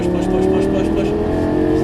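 A Lamborghini Gallardo LP550 pulls hard under throttle on a track, its engine note a loud, sustained rising drone with strong harmonics, heard from inside the car beneath an instructor's voice.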